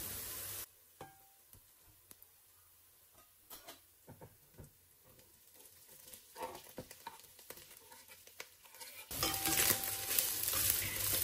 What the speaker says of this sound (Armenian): Ահա, այստեղ սոխարածը մի փոքր լինելուց հետո ավելացնում եմ հավի կրծքամիսը։